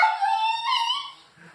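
A puppy gives a single close, high-pitched whining yelp that bends upward and then fades, heard alone in a quiet room.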